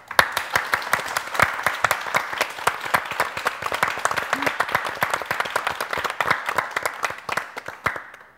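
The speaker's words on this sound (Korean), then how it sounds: "우리 반갑게 큰 박수로 맞이하도록 하겠습니다." Studio audience at a Korean church revival television broadcast applauds to welcome a group of guests: dense, steady clapping from many hands that holds evenly for the whole stretch, loud and close, with no talk over it.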